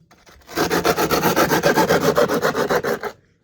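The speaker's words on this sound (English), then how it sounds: "we're just going to take a file, something like this, or if your skate tool has a file on it, and just kind of file down" A hand file rasps along the edges of skateboard grip tape in quick, even back-and-forth strokes, close and loud, about a dozen rhythmic passes over three seconds with no talking.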